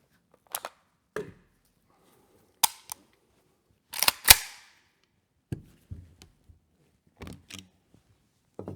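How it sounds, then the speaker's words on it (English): A Romanian AK-74 PM md.94 carbine is stripped on a table, giving a series of sharp metallic clicks and clacks as parts are pulled and released, spaced irregularly with quiet gaps between, close and crisp. "let's just strip this down to show you the internal differences and the 3-round burst mechanism"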